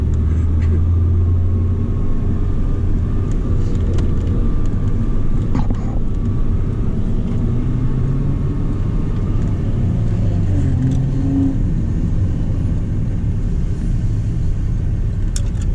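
A Porsche Cayman on Circuit Dijon-Prenois rumbles loud and close from inside the car, a continuous heavy engine drone with little change throughout.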